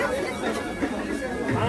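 Dense crowd chatter fills a busy food stall at the Kokan Mela in Dubai, an overlapping babble of many voices that stays steady and close without a break.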